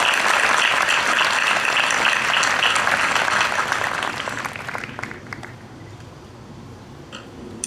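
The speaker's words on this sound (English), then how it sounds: "let's give her a round of applause as well." An audience at an undergraduate commencement ceremony applauds loudly, the dense clapping holding steady before tapering off into scattered claps over the final seconds.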